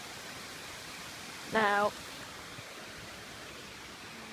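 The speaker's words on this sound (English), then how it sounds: "Here's the waterfall." A waterfall in Cornwall pours in a constant, even rush of hissing water, with a brief spoken word cutting in partway through.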